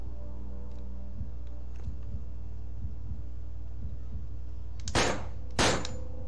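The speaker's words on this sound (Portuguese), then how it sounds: "Mas tiro, tiro." Two sharp gunshots from the PS2 game Manhunt, fired close together near the end over a low steady hum and faint dull thuds.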